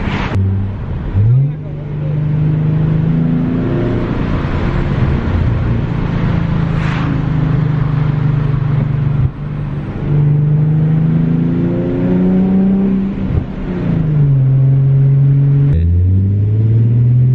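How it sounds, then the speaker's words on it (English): A 2011 Ford Mustang engine revving while driving on backroads, a loud steady drone that climbs and falls in pitch with each rev, heard close from inside the car. "Revving a little higher, trying to get some pops out of it."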